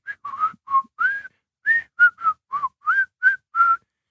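A person imitates a weird whistling with a quick series of short, separate whistled chirps, each rising or bending in pitch, close and clear against silence.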